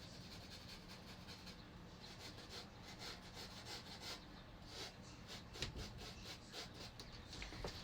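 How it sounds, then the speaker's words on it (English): Sandpaper rubbed over a vintage hat to remove old glue: a continuous close, gritty scrubbing with a rhythmic back-and-forth texture, alone without talk. "The reason why I'm sanding it is because I want to kind of like get rid of some of that glue"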